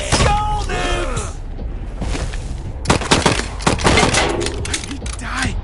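Game gunfire and battle effects from Wasteland 3 rattle in quick volleys with sharp booming shots, loud and up front, mixed with shouted combat barks from game characters.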